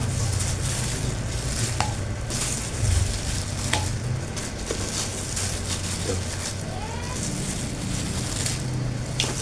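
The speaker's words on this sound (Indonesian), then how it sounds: "Apabila minyak udah panas, cakwe udah siap kita goreng." Steady sizzling and bubbling of cakwe dough deep-frying in hot oil, with occasional faint clinks and light handling noises throughout.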